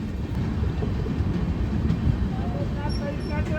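Vibhuti Express passenger train rolling toward Shaktigarh on the Howrah–Varanasi route, a steady loud low rumble of the carriage with faint clatter and a few high squeals near the end, heard from inside.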